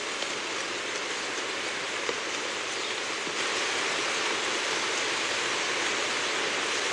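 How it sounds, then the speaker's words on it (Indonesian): Heavy rain pouring down in a steady, dense broadband wash that stays loud and unbroken throughout, with no voices present. "tiba-tiba saat itu hujan turun begitu deras"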